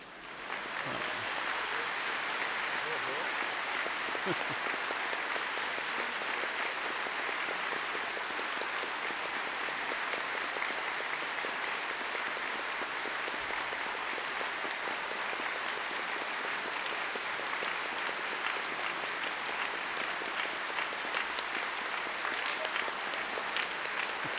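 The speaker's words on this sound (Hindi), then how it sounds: "एक 100 बार ताली बजा सकते हैं?" Long, sustained clapping from a large audience at a 101st birthday celebration, an even, rain-like wash of applause that holds steady throughout without voices on top.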